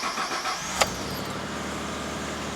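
A car or truck engine starts with a brief sharp crank, then settles into a steady low idle that continues alone.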